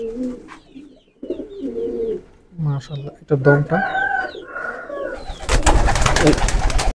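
Pet pigeons in a breeder's loft coo in soft low bursts near the start, among other bird calls, while someone talks over them; a loud broadband rush of noise takes over the final seconds.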